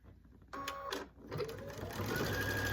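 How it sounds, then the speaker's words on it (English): A sewing machine stitching down a binding flap, starting in short stuttering bursts that settle into a steady close whirring run, no talking. "I'm gonna sew that down."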